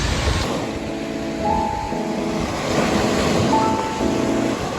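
Ocean waves roll onto the Malta shore in a steady, broad wash of surf with soft swells rising and falling, mixed with light wind noise.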